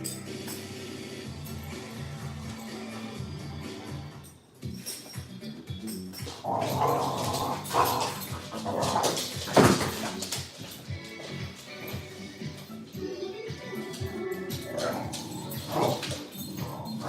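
A dog whimpers and barks in irregular bursts at moderate distance, mixed with shuffling, thumps and background commotion over a long stretch.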